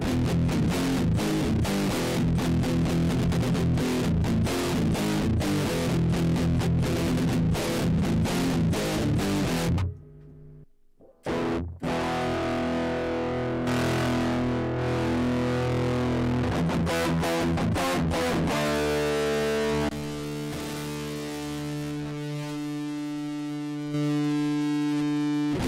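Electric guitar run through the IK Multimedia X-Drive distortion app, playing a series of distorted tones: choppy chugging riffs, a short silent gap, then sustained ringing chords and notes, loud and steady with no talking.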